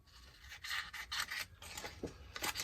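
Scissors snip through paper for a mixed media art piece, giving a series of close, soft rhythmic cutting and rustling strokes with brief pauses between, fairly quiet and with no talking.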